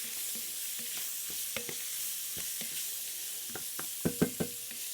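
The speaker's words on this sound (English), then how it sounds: "next goes in one diced onion, and we just want to cook that off until the onion is softened" One diced onion cooks in a pot for oven mac and cheese, hissing with a steady, even sizzle, and a few sharp spoon knocks against the pot come near the end. No one speaks.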